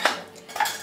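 A metal spoon scrapes and clinks inside a kadhai while roasting sesame seeds, giving two quick close clatters, the second softer, with no voices.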